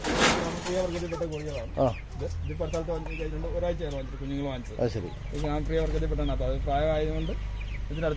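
A year-old hen clucks and calls repeatedly at close range, with people talking nearby.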